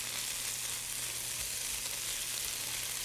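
Spinach laid over black beans sizzles in a pan on high heat, a steady, close frying hiss that continues without a break or any voices.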